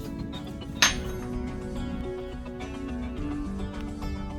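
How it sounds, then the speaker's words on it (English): A die grinder grinds a car's e-brake cable bracket with a steady, shifting whine, opened by a single sharp metallic clink, close and alone. "Just a few seconds with the die grinder."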